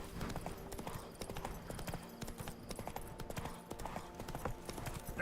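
Hooves of a horse clip-clop at a gallop in The Witcher 3, a steady rapid drumming over game ambience and music for the whole stretch, fairly close and moderately loud.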